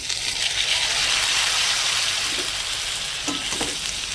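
Pre-fried kohlrabi is stir-fried in a pan with ground spices and chili powder, giving a loud, constant sizzle, with a few soft stirring scrapes toward the end.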